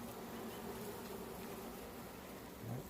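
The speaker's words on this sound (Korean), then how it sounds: "지금 현재 이렇게 말벌이 들어와 있습니다" Hornets trapped inside a honeybee hive fitted with heating wires give off a steady, close, continuous droning buzz, with a slightly louder swell near the end.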